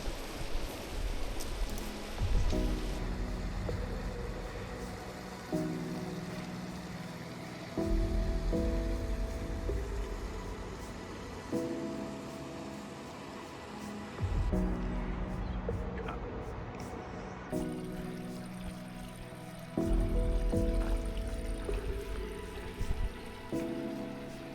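Waterfall on Santa Maria in the Azores, dropping about 80 m in free fall, gives a continuous wash of rushing water under intermittent low rumbles and a tonal hum that repeatedly cuts in and out.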